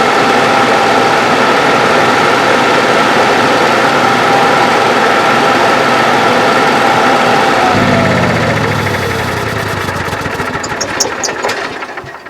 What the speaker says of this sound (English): now we're going to start it and just check for leaks